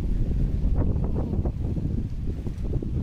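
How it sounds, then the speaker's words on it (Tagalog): Gusty outdoor wind buffets the microphone on an evening walk, a steady low rumble with brief swells, loud and close, with no voices. "Hangin na."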